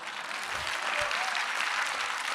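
Audience applause at a French conference session, steady broadband clapping from a hall full of people, fairly even in loudness for a couple of seconds with no talk over it.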